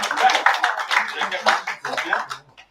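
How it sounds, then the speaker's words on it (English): Scattered clapping from a small group rounding off a session of a youth AI and VR production workshop, near and uneven, mixed with cheering voices and chatter. "So round of applause for the last one."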